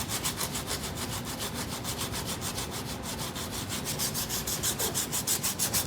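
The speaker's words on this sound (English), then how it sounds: "Dad's working on the thankless job of stripping those down." Motorcycle parts from a neglected machine are sanded and stripped by hand with a fast, even back-and-forth scraping, roughly four to five strokes a second, close and continuous throughout.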